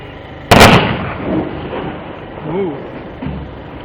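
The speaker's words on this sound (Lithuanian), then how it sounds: "Dabar šaus. Į dangų." One sharp, loud gunshot fired into the sky rings out close by at an outdoor public celebration, fading quickly, with faint voices around it.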